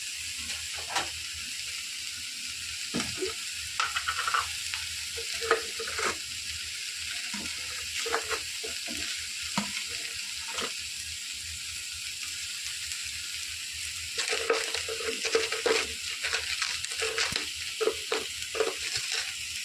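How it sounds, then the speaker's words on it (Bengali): Mustard seeds with dried and green chilies and badi fry in hot oil, a steady soft sizzle broken by bursts of spattering and stirring clatter, with quiet stretches between. "আর সর্ষে, শুকনো লঙ্কা, কাঁচা লঙ্কা ফোড়ন দিয়েছি, দিয়ে ভাজছি"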